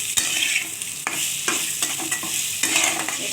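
Bitter gourd and pumpkin stir-fried in a pan with cumin and green chilli, a loud continuous sizzle broken by repeated scraping strokes of a spatula, close and without talk.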